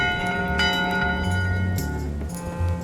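A ship's bell in Return to Monkey Island rings with long sustained metallic tones over a low background drone, with a few brighter strikes.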